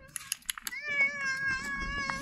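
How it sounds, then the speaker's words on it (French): A domestic cat meows in a drawn-out, rising call close by, preceded by a few soft taps and clicks, with faint room noise underneath. "Ah, miaou miaou."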